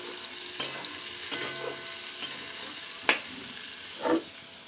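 Pointed gourd (potol) frying in a pan of oil, a steady soft sizzle with a few light clinks of stirring, faint and close, no voices.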